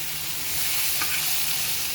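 Soya chunks fry in a pan of oil for a soya curry, a steady close sizzle with light stirring that holds evenly for the whole stretch, with no talking.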